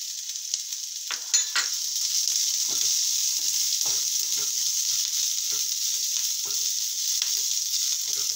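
Chopped onion frying in a pan for a sandwich, a continuous bright sizzle with scattered scraping stirs, close and alone without speech.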